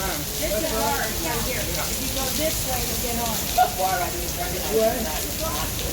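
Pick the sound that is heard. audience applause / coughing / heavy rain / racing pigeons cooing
heavy rain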